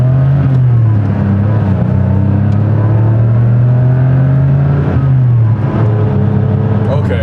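A 1988 Porsche 911 pulls hard while on the move, its engine note rising loud and close through the gears. One dip around a shift comes before the climb resumes, and voices talk over the engine.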